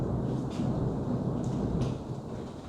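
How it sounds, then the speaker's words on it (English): Thunder rolls during a stormy day on a homestead, a low continuous rumble heard from indoors with a few faint brief knocks on top, steady and moderately loud, with no talking. "that would be the thunder"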